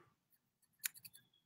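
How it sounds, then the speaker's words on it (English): Razor scissors snip feathers at a fly-tying vise, a quiet cluster of several crisp, quick cuts close to the listener, with no talking. "handy dandy razor scissors."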